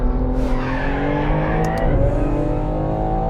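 A 1000hp BMW G80 M3 accelerates hard on a test track, its engine a loud, close, sustained roar with rising tones and a hint of tyre squeal throughout.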